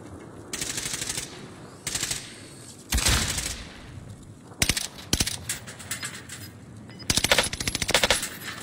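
Call of Duty gunfire crackles in repeated bursts: rapid automatic machine-gun volleys separated by short pauses, some sharp single shots, loud and close, with no talk over them.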